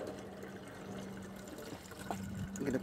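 Water poured through a funnel into a homemade water balloon cannon makes a soft, steady trickle that swells a little toward the end, close and quiet with a low hum underneath.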